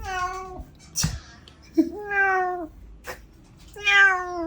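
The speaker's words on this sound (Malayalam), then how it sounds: "ഒരു പൂച്ചയാണല്ലോ." A cat meowing three times, long drawn-out rising and falling cries separated by short pauses, close and clear against a quiet room.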